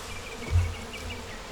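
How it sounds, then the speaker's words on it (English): A steady buzz of worker honey bees hums continuously, low and droning, with a brief swell partway through and no voices. "the working bees"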